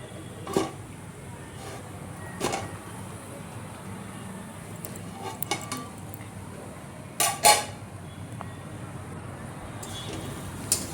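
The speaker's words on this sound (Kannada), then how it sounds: "ಹಾಕ್ಕೊಂಡು ಮತ್ತೆ ಚೆನ್ನಾಗಿ ಬಾಣಲೆನ ಕೈ ಆಡಿಸ್ಕೋಬೇಕು ಅದೆಲ್ಲ" A spoon scrapes and clinks against a pan while North Karnataka style bharda palya is stirred, then a lid is set over it. A few scattered sharp clinks stand out above a low, steady background.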